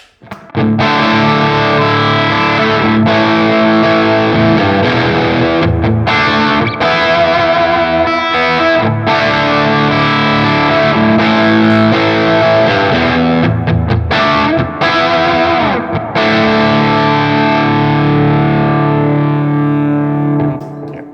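Electric guitar through a JHS Andy Timmons overdrive pedal and Victory preamp pedal, with a warm crunch, plays chords and riffs continuously, loud and sustained, with no talking.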